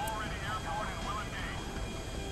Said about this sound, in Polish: jest śmigłowiec